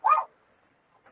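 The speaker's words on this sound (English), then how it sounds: "these dogs ain't gonna shut up" A dog gives one short, sharp bark nearby, followed by near silence and a faint, brief yip at the end.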